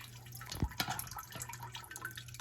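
Chicken and vegetable broth drains with a soft, steady trickle and a few light drips, close by and fairly quiet.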